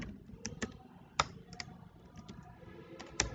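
Typing on a computer keyboard while entering data into Microsoft Access, a few sharp key clicks spaced irregularly over faint background noise, with no talking.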